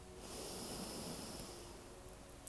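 A deep, slow inhale during a sophrology relaxation breathing exercise, a soft airy rush of breath close to the microphone, lasting about two seconds.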